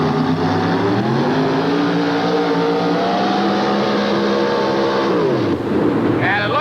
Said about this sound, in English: 640 cubic inch engine locked in